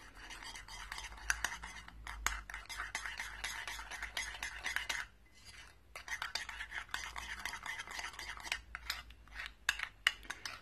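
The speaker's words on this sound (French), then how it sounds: "Donc là, je vais mélanger le tout" A spoon scrapes and stirs a mixture seasoned with turmeric in a bowl, a quick repetitive rubbing pattern with brief pauses, close and moderately loud.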